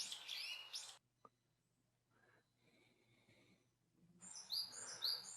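Bird song in two bursts of bright, rapid chirping trills, the first at the start and the second at the end, with a quiet gap in between.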